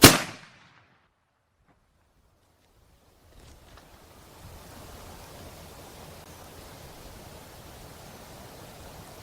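.50 caliber rifle fired at long range: one sharp, loud shot at the very start that dies away fast. A quiet lull follows, then steady faint wind noise.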